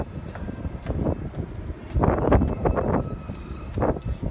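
Gusty wind buffets the microphone on the upper deck of the cruise ship Jewel of the Seas, a loud, rumbling low roar that surges and eases in uneven bursts with no voices.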